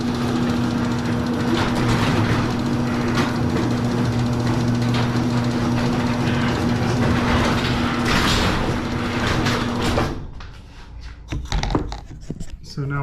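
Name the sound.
garage door opener closing the garage door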